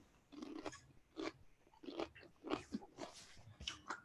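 A tortilla chip topped with persimmon and jalapeño salsa crunched and chewed close up, a quiet series of irregular crisp bites and chewing sounds with no talking.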